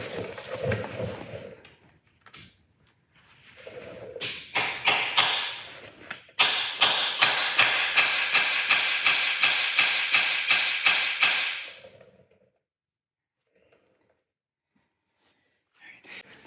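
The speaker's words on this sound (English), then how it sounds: "So I'm going to hammer this in there" A hammer drives a bolt extractor into a stuck fill plug on a Land Cruiser front differential: after a few scattered taps, a long run of rapid, loud, evenly spaced metallic blows lasts about six seconds, with some brief talk before it.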